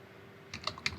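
A few quick keystrokes tap on a computer keyboard, faint and close, following a quiet pause.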